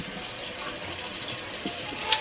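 Water runs from a kitchen tap into a cup, a steady close hiss of flowing water with a small splash near the end.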